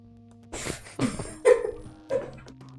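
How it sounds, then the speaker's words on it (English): A dog gives several short whimpering yips and barks, three or four separate bursts spaced about half a second apart, fairly close and moderately loud, with no talking. "What the dog doing?"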